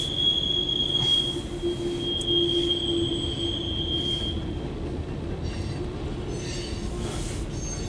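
A CSX Q416-16 mixed freight train rolls past, its wheels giving a loud, sustained high-pitched squeal over a constant rumble of railcars.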